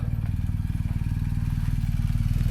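A motorcycle engine idles and rumbles with a steady, low, rapid thumping pulse close by at a campsite near the Lofoten Islands in Norway.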